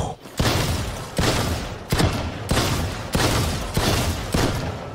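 Sheriff pistol shots ring out in the tactical shooter Valorant: six loud, sharp cracks spaced about a second apart. Each report has a short, booming tail that fades before the next shot.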